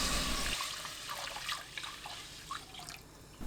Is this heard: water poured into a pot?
yes